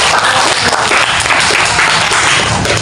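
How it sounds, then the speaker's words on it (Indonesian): Audience applause from a gathered crowd, dense and steady clapping filling the whole stretch at close range, loud and continuous with no talk over it. "Beri aplaus dulu."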